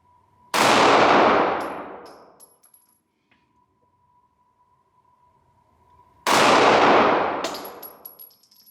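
Two loud 9mm pistol shots from a Sig Sauer P365 SAS strike a steel target, each a sharp crack with a bright metallic clang that rings out and decays over a second or two, spaced about six seconds apart with no talking.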